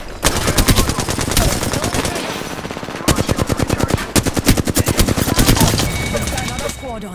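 Automatic weapon fire in Apex Legends: sustained bursts of rapid gunshots, loud and close, repeating across the whole stretch with short gaps between volleys.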